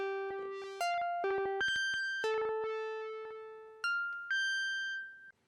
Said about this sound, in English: your semi-modular should sound like this